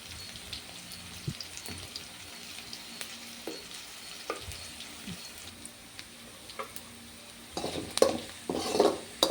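Mango rice spices, turmeric and asafoetida, sautéing in a pan, a soft continuous sizzle with occasional scraping stirs, building to louder clattering stirs of the spoon against the pan near the end.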